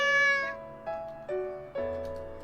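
A kitten meows in a romance video game, four drawn-out, tonal meows in a row, each starting sharply, clear and close with no talk.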